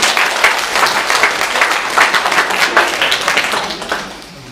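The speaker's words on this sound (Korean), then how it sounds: "박수로 환영합니다." A church congregation applauds during a Sunday worship service to welcome a member, steady dense clapping filling the room for several seconds before tapering off at the end.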